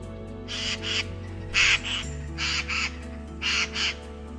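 Several jays squabble at a bird feeder over butter and lard, giving harsh, raspy calls in repeated paired bursts over a low background hum.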